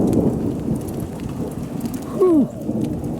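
Steady rain pours through a campsite shelter screen at Lake Brownwood State Park, with a low rumble of distant thunder swelling briefly toward the end.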